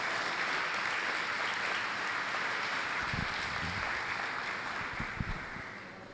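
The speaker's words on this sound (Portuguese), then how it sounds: "Você pode dar uma linda salva de palmas a Jesus." A church congregation at a Portuguese-language service applauds, producing a broad, steady wash of clapping that sounds somewhat distant and fades slightly toward the end, with a few low thumps near the close.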